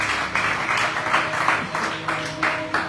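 Scattered clapping from a church congregation at a Sunday service, uneven bursts of hand claps rising and falling over a few seconds.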